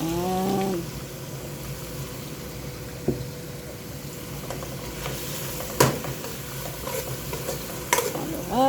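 Chicken and tomatoes sizzle steadily as they sauté in a pan, broken by a few sharper scrapes and knocks of a stirring utensil, close up and with no talking.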